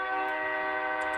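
A train horn blares in one sustained, loud, harmonic-rich blast heard from nearby, with no voices over it.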